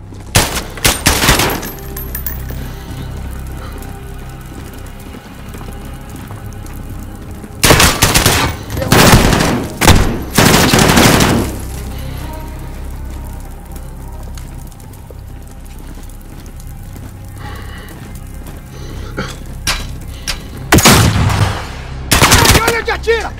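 Bursts of automatic gunfire from the Call of Duty Modern Warfare (2019) campaign, several loud volleys separated by quieter battle ambience and occasional speech.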